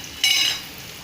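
Cleaned peanuts dropped into a hot pan for tamarind rice paste give one sudden bright sizzle that flares up, then fades into a softer, steady crackle, close and alone.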